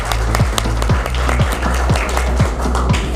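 An audience claps for musicians at an Eid, Easter and Baisakhi festival celebration in Lahore, steady dense applause under a low musical hum with repeated sliding bass drum hits, loud and continuous throughout.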